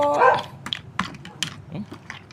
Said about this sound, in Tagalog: Tahulan aso namin.